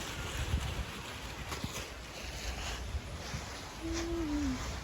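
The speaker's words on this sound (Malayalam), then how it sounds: "നല്ല കാറ്റുണ്ട്." Steady wind rushing across the microphone, a continuous broadband roar with low gusty rumble, and a brief tonal whistle near the end.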